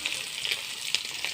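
Chopped onions tossed into a wok of lightly fried puti fish, a soft steady sizzle of hot oil with faint crackles and small spits.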